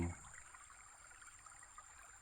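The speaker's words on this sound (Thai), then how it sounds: "น้ำไหลนี่ก็ยังมีเสียงครับ นี่คือเสียงมีจริง" A flowing stream, a faint continuous trickle and gurgle of running water, steady and fairly distant with no talk.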